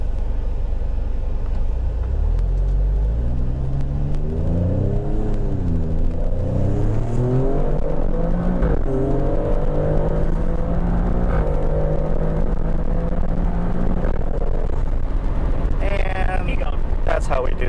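An Alfa Romeo Stelvio Quadrifoglio pulls hard away from a traffic light, its engine note climbing through rising gears in a loud, close rumble, with a sharp rev near the end and voices underneath.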